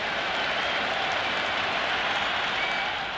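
Loud, continuous roar of applause and cheering from a stadium crowd at a T20 cricket match between India and Australia in the video game Cricket 26, dense and unbroken throughout.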